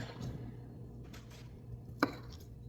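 A knife or spatula cuts lasagna into portions, giving one sharp tap against the pan after quiet scraping.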